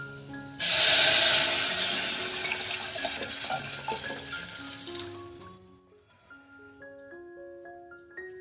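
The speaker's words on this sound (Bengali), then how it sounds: "এবারে এটার মধ্যে যে জলটা বানিয়ে রেখেছিলাম না টমেটো আর এটা দিয়ে, সেই জলটা দেবো।" Tomato water poured into a hot cooking pan, bursting into a loud rushing hiss and bubbling that slowly fades over several seconds, leaving quieter simmering with scattered tonal clinks near the end.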